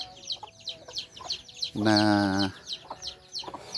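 A mother hen with her young chicks clucks in a rural yard. Soft, rhythmic clucks repeat throughout, with one louder, drawn-out call in the middle.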